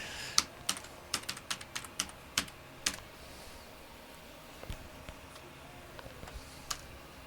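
A password is typed on a computer keyboard, a series of quiet, separate key clicks, clustered in the first three seconds and then sparser, with no talking over them.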